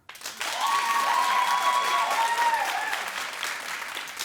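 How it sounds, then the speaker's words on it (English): Steady, loud applause from a television talk show studio audience, with whoops and cheering voices rising over the clapping before it gradually eases off. "Clap if you think Kim and Kanye will get married"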